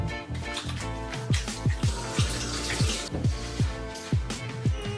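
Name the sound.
tap water running while washing hands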